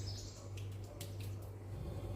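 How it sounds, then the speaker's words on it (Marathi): Food being rinsed with water in a pot in a home kitchen, a faint, steady watery swish and splash set against a low background hum, with no voices. "आता हे 1-2 पाण्यानं धुवून घ्यायचं."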